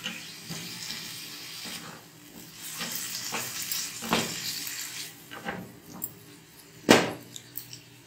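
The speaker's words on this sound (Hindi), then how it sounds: "मसाले के साथ आलूओं को थोड़ा सा पकाना है।" Spiced potatoes simmer with a little added water and chopped coriander in a pan for an Arabic Eid dish, giving a steady soft sizzle with intermittent stirring scrapes and a sharp utensil clink near the end.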